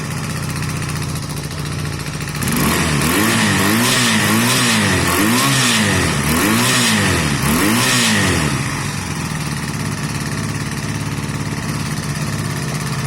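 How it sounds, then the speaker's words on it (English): A Honda CB250 Nighthawk engine, freshly rebuilt with a new piston and cylinder, idles, then revs hard in several quick rising-and-falling bursts before settling back to a steady idle. "Let's give it a bit of a rev and look for smoke."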